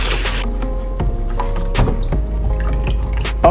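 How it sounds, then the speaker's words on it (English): Strawberries are washed in water, with splashing, dripping and sloshing in bursts and a few sharper splashes, close and fairly loud with no talk. "we're gonna make sure our strawberry are washed"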